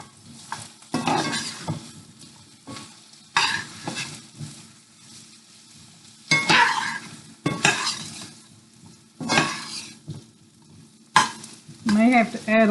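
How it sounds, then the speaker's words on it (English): Yellow squash and zucchini cook in butter in a pan with a close, steady sizzle. Repeated stirring scrapes and clatters of a utensil against the pan come at irregular intervals. "I'm going to go ahead and add in the yellow squash. Let it get to cooking."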